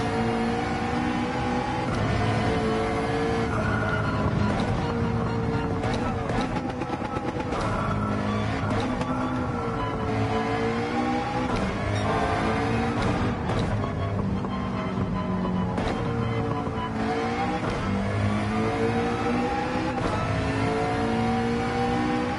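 A race car engine in Gran Turismo 7 drones steadily throughout, its pitch climbing and falling as the car accelerates, revs and lifts off through corners on track, loud and continuous with no talking.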